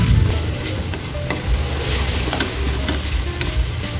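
Pork binagoongan frying in a pan is stirred with fine pepper, producing a steady loud sizzle with scraping stir strokes throughout and no voices.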